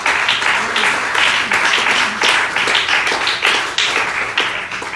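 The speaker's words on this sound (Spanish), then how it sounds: "¿Cuántos le podemos dar palmas al Señor Jesucristo?" A church congregation claps continuously, dense applause with rhythmic bursts of hand claps, loud and close throughout.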